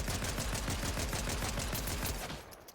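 Rapid, steady bursts of pistol fire in the video game Island Tycoon, loud and close, with a clipped mechanical crack on each shot before it trails off at the end.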